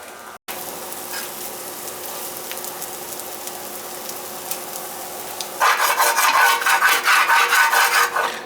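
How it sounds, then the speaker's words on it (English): Spatula scraping a hot cast iron pan clean after cooking breakfast, first a soft sizzling hiss, then loud rapid rasping scrapes in a steady back-and-forth rhythm near the microphone. "You can just scrape it after it's off. Just scrape this stuff right out like this."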